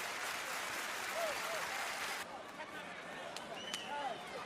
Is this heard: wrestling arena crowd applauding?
yes